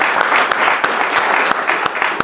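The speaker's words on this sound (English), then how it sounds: "Let's do it, because I'm down to applaud." A small audience at an open house gives a brief round of applause, with distinct individual claps standing out sharply over a softer, steady patter.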